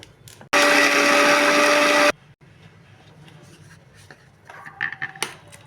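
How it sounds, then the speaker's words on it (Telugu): A mixer grinder whirs loudly for about a second and a half as coconut chutney is blended, then stops abruptly, followed by quiet handling sounds and light clinks. "ఇప్పుడు ఇది మిక్సీ వేసేసుకుందాం."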